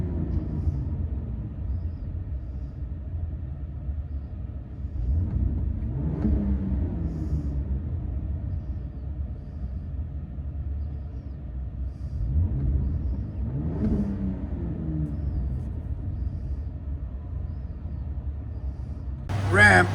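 Ram RHO pickup (2025) with twin-turbo 3.0L Hurricane inline-six and Magnaflow SPEQ cat-back exhaust cruising on the road, a steady low droning rumble with two brief rising pulls partway through.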